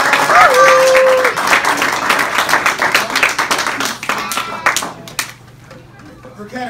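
Round of applause at a school football jersey swap event, a loud burst of crowd clapping that fades over several seconds, with voices and a short whistle-like tone early on.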